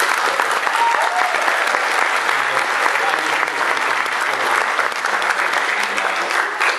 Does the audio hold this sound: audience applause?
yes